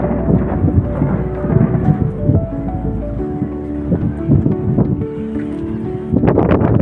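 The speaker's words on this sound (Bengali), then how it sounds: "এখানে যে বৃষ্টি পড়ছে আমরা কিন্তু খালি চোখে দেখতে পাচ্ছি। বিদ্যুৎ চমকাচ্ছে।" Thunderstorm with rain and lightning: loud, continuous low rumbling thunder rolls close by over a wash of rain, with a sharper burst near the end.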